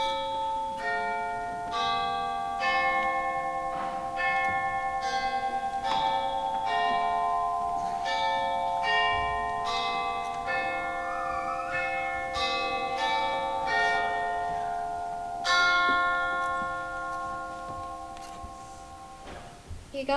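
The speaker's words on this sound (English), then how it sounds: "the bell was again upon the stroke of" A church bell rings out in a stage production of A Christmas Carol. Clear, resonant strikes sound one after another with long ringing overtones that sustain between hits.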